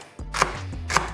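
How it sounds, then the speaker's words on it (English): A knife chops a carrot on a cutting board in two sharp, close thuds about half a second apart, clear and isolated with no voices. "When you cut your carrot, you don't need to cut it in thin."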